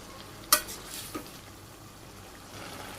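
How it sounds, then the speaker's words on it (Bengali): Dried fish and onions cook in a pan with a faint, steady sizzle, opened by a sharp clank of a utensil on the pan and a softer knock a moment later. "শুকা মাছ তো পেঁয়াজ দিয়ে ভাজি করছি"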